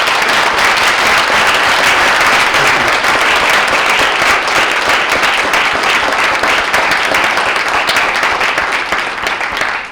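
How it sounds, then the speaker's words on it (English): A lecture audience breaks into a loud, dense round of applause for an honored guest, steady clapping that fills the room and starts to fade at the very end. "could we give her a round of applause just for being here?"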